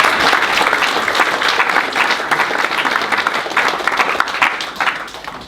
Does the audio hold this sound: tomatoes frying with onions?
no